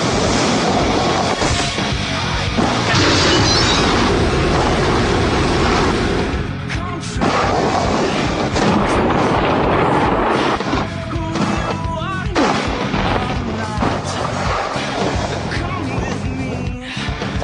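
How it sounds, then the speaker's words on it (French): In the PlayStation 2 game Shaun Palmer's Pro Snowboarder, a snowboard carves through powder snow with a loud, continuous rushing hiss and scraping, interrupted by thumps and swooshes, while someone talks over it. "Les bruitages, je les trouve assez déments, le bruit de la poudreuse et tout est assez fabuleux."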